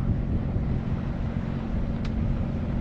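Sailboat motoring under engine power across a bay on the Brittany coast near the Glénan islands and Loctudy, with its sails furled; a steady low engine drone runs throughout, mixed with wind rumble on the microphone.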